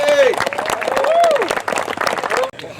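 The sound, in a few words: audience round of applause at a golf event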